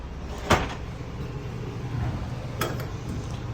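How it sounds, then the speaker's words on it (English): Heavy interior doors in a 2021 Forest River Wildcat 266MEX travel trailer RV give two sharp, close knocks a couple of seconds apart against a quiet room hush. "Heavy doors too."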